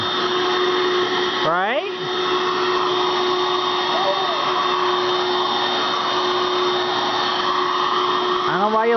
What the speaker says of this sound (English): That nice bright red Dirt Devil vacuum.